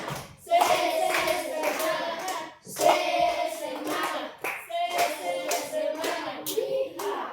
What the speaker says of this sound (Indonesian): 5 kali tepuk semangat.